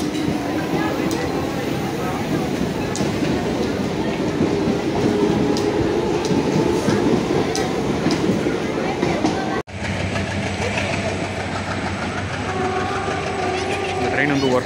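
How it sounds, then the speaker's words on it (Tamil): A Chennai local train rumbles steadily nearby with rattling wheels on track, continuous and loud, with a faint voice mixed in beneath the noise. "எடுத்துட்டாங்க ட்ரெயின், உடனே உடனே எடுத்துறாங்க"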